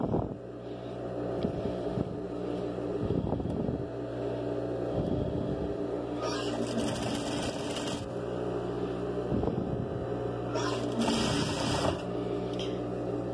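Sewing machine stitching a cloth diaper, running in short bursts of rapid mechanical whirring that stop and restart several times, with light handling noises between runs and no talking.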